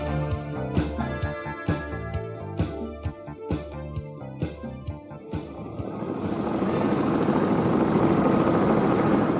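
Helicopter engine starting with a rhythmic thudding of rotor beats that quicken, then blend into a loud, dense, continuous roar as the aircraft lifts off.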